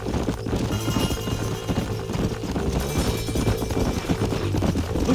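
Horse hooves clip-clop steadily on the ground in the video game Red Dead Redemption, several horses moving at once, loud and close under a dense layer of ambient game sound.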